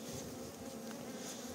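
Honey bees from a hive bred from Italian and Carniolan stock make a dense, steady buzz that fills the whole stretch at close range, with no voices.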